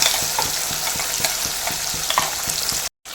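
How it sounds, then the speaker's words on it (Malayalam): Ground masala paste hits hot oil in a pan while cooking red spinach curry, giving a loud, continuous sizzle with a regular scraping tick of stirring running through it, cut by a momentary gap near the end. "ഇതിനകത്ത് നമ്മൾ നേരത്തെ അരച്ച് വെച്ച മിക്സ് ഉണ്ടല്ലോ മസാല എല്ലാം കൂടെ അത് ഒഴിച്ചു കൊടുക്കും"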